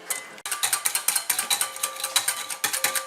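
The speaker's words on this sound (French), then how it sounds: "Pour l'instant, nous fouettons." Rapid rhythmic clinking of a whisk against a bowl while making aioli from mustard, egg and sunflower oil, steady close strokes about five or six per second after a brief opening clatter, with no talking.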